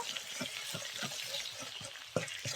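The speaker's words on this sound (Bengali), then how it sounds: "ডিমটা ঝুড়ে ঝুড়ে করে ভেজে নেব" Egg being fried and scrambled in a little oil in a pan, with a steady soft sizzle and a series of scraping stirs, one sharper knock near the end; no talking.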